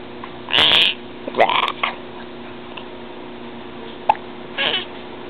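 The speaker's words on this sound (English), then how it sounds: "You get violent hiccups, huh," A pet gives several sharp, violent hiccups, each a short squeaky burst, spaced irregularly across a few seconds in a quiet room, close and fairly loud.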